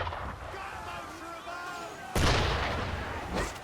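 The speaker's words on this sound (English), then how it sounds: "Why is he shooting at us?" Loud cannon blast fired at the player in Assassin's Creed III, a sudden booming hit followed by a rumbling tail, with a second boom near the end and voices talking under the earlier part.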